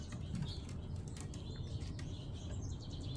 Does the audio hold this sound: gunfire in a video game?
no